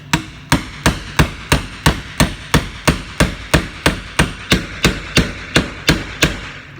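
Sharp metallic hammer blows on a socket land in a steady, evenly spaced rhythm, about three per second, close and loud, with no talking, while refitting an inner CV joint on a 2004 Audi A4 1.8T.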